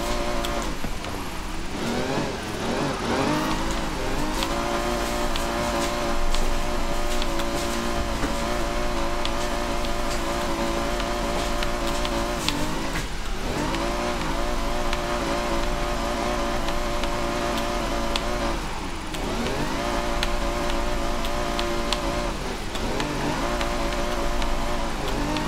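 A Ferrari races through Forza Horizon 5 with a steady engine drone that holds for the whole stretch, rising and dipping with occasional revs and shifts, loud and continuous with no talking.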